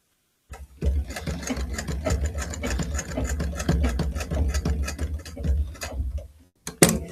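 Rapid, rhythmic mechanical stitching of a sewing machine sewing a corset, a steady run of close ticking needle strokes lasting several seconds, pausing briefly near the end before a final clunk.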